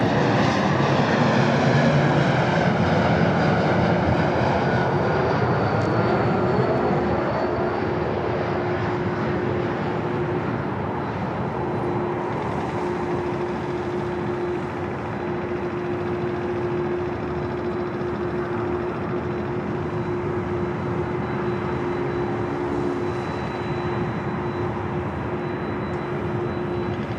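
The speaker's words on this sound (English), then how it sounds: "That was an E-Jet coming in from Aspen, Colorado." An Embraer E-Jet airliner lands on runway 24 Left at Los Angeles International Airport, arriving from Aspen, Colorado. Its loud jet engine roar holds steady throughout, with a sustained whining tone and no voices.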